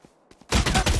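Rifle fire in the video game Valorant: two faint taps, then a loud rapid burst of automatic shots, close and dense with no talk over it.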